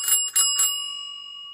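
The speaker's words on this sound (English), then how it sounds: "this bell is made from copper or bronze" Three quick rings of a copper or bronze bicycle bell on a Gazelle Maxinette, bright and close, the last strike left to ring out and fade slowly, with no talking.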